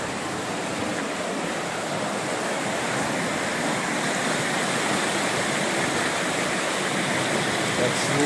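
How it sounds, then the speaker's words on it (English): Spring water flowing out of the ground at Big Spring, a cave spring in Missouri, sounds as a steady, broad rushing wash that holds constant throughout, close and fairly loud, with no other sounds over it. "That's literally where this pure water comes out of the ground."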